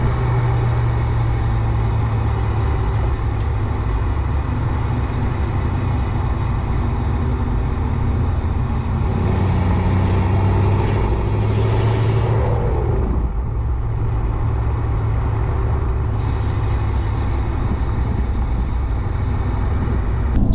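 A Ford 6.7 Powerstroke diesel truck drives in gear, holding fourth at about 1,600 RPM down a slight hill before downshifting into third, with a steady low engine drone and road rumble heard from inside the cab.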